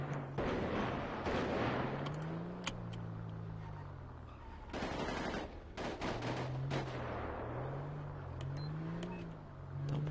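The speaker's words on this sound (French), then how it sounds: "Attends, pourquoi ça tire?" Gunfire in Assassin's Creed Unity, heard as a few sharp distant cracks over a steady game ambience with low droning tones, scattered across the span.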